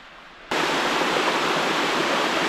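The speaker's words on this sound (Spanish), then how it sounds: "Ahí están las chorreras." Small waterfalls (chorreras) pour over sculpted-looking rocks with modest flow, a loud broadband rushing roar that starts abruptly and then holds steady.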